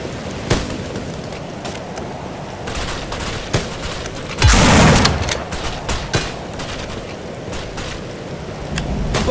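Gunfire from the video game No More Room in Hell comes as scattered sharp shots over a rain-like background wash, with a louder burst near the middle and no talking.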